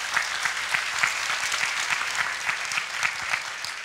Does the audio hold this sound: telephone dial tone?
no